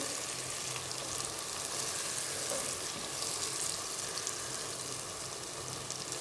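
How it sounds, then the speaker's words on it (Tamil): Curry with chilli powder and dried chillies frying in oil while being stirred, a steady close sizzle with faint scraping, continuous and without talk. "நல்லா பொன்னிறமாக நல்லா வதக்கிக்கோங்க"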